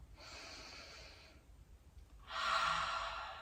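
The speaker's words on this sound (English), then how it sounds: "Take a nice inhale into your heart center. Exhale." Two long, soft breaths during a yoga session, a gentle airy inhale followed by a fuller, louder exhale, heard close with no talking.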